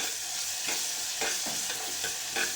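Spices and ginger-garlic paste frying with onion in hot oil for soya chunks pulav, a dense close sizzle with rhythmic scraping stir strokes repeating about every half second, no voices.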